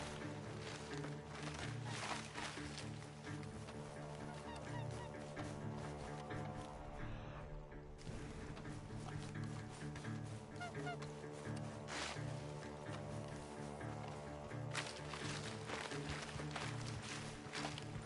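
Geese honk repeatedly in the background of a Red Dead Redemption 2 outdoor mission scene, layered through an ongoing game soundtrack and ambience for the whole stretch.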